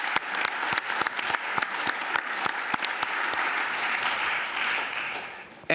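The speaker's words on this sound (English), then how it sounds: "I think that you deserve an applaud by yourself." A conference audience at an EU energy supply event claps for the moderator, steady applause with sharp individual claps standing out near the front, sustained throughout.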